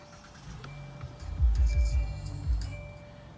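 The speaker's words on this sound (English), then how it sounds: "So let's turn on the car." A 2018 Hyundai Elantra GT starts up, its low engine crank and rumble swelling briefly to loud bursts before settling into a steady idle, heard close from inside the car.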